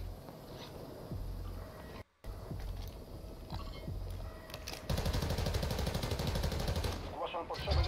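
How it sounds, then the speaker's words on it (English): Gunfire in the video game Call of Duty DMZ, with bursts of rapid automatic shots, some distant, growing into a dense, louder volley toward the end, heard alongside game ambience and mixed with talking. "No, I'm getting shot at."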